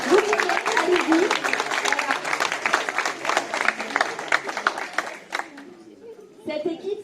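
A room full of supporters claps loudly for candidates at a campaign list presentation, steady dense applause that thins and fades out toward the end as a voice starts talking.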